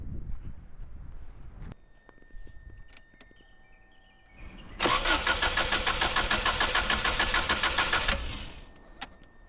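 A 1995 Subaru GC8 with an extended-start fault cranks for several seconds, then catches and runs loudly with a steady rough idle before the engine settles, heard close with no talking.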